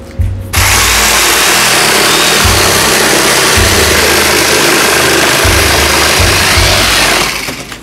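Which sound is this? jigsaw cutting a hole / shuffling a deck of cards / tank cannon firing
jigsaw cutting a hole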